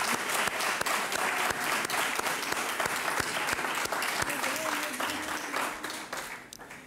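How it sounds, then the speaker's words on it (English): Church congregation applauding during a centennial celebration service at Koloa Union Church, a dense, even round of clapping that holds steady and tapers off at the end. "So let us thank them all with an applause."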